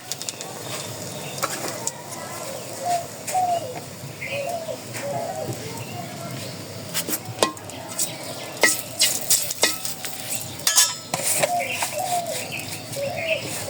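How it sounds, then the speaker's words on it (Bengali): Bay leaf and a dried red chili fry in hot oil in a pan, giving a soft, steady sizzle with occasional stirring clatter. Birds coo faintly in the background. "এই যে তেল দিয়েছি, তেজপাতা দিয়ে দিই, একটা শুকনো লঙ্কা"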